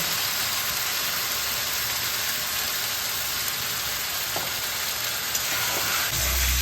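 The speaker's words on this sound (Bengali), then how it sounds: "এটা এবার এর মধ্যে দিয়ে আমি কষিয়ে নেব" Green chillies and garlic sauté in a hot pan, giving a loud, steady, close sizzle with no break.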